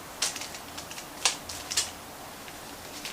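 Faint, quick ratcheting clicks come in a few short bursts as a zip tie is pulled tight to secure a hoop cake stand, with quiet gaps between them.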